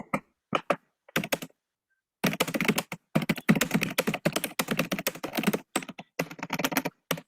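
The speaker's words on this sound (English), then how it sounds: "you're typing away furiously there" Fast, furious typing on a computer keyboard comes as dense bursts of close key clicks, broken by short pauses, with no talking.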